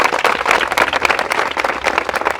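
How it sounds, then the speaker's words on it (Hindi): A seminar audience of direct sellers bursts into loud, dense applause, many hands clapping continuously and close without pause. "मैं चाहूँगा सर के सम्मान में जोरदार तालियां"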